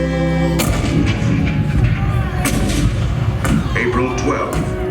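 Heavy booming cannon fire in a dense, continuous barrage from a theme-park animatronic show depicting Fort Sumter, with repeated loud blasts layered over a rumbling battlefield din and distant shouting.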